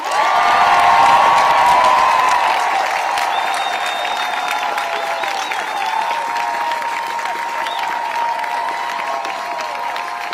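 An audience at a North Carolina reproductive-rights event applauds and cheers for the Attorney General. Dense clapping with whoops peaks at the start, then eases into steady applause.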